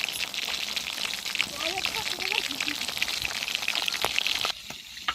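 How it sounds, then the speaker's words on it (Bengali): Fish fries in a pan, giving a continuous crackling sizzle close by, while a person talks over it before the sizzle drops away near the end. "গাইস দেখতে পাচ্ছেন এখন মাছ ভাজা হচ্ছে।"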